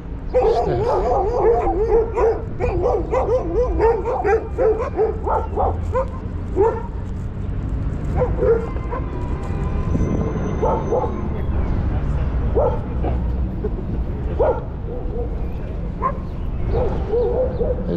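A pack of dogs barks in quick overlapping volleys in a Yerevan courtyard park, dense at first and then thinning to occasional yelps, carried over steady outdoor background noise.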